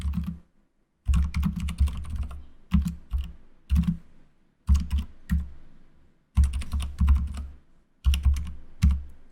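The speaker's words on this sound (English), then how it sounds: "So let's start typing." Someone types on a computer keyboard up close, in quick clusters of keystrokes separated by short pauses.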